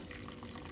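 Water running steadily into a cooking pot as pigeons are prepared for oven roasting in a heat bag, a close, continuous splashing fill with no talking.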